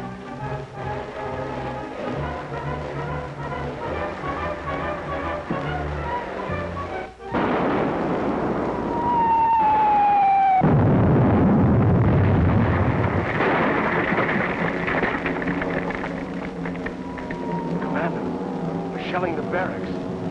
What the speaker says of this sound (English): Shelling the barracks.